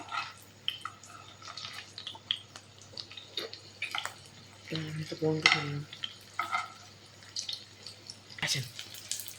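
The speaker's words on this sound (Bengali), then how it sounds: "এইভাবে আমি তেলের মধ্যে বড়াগুলো ছেড়ে দিই" Lentil fritters sizzle in hot oil with intermittent clinks and scraping from stirring, a steady crackle rising and falling at close range.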